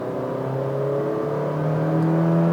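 A 2023 Honda City accelerates at full throttle from 60 km/h on a highway, its engine droning loudly with a steadily rising pitch and no audible gear breaks, no talking.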